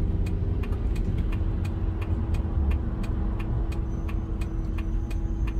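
A car drives through city streets in Stamford, Connecticut, with a steady loud engine and road rumble heard from inside, plus a regular faint ticking, likely a turn signal, over the drone.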